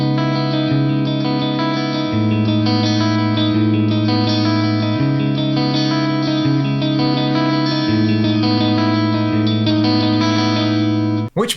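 Clean electric guitar arpeggios on a Strat-style superstrat, played through neck and middle pickups with a touch of reverb and an effects unit, sustained chiming notes ringing steadily and close up for about eleven seconds before cutting off.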